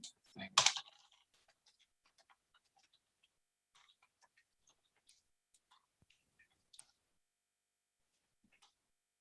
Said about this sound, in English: Just typing something, bear with me.